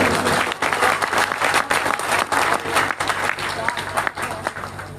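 Audience at a mushaira poetry gathering in Madhuban, Bihar breaks into loud, uneven clapping with rhythmic bursts and some cheering voices mixed in, sustained for around five seconds.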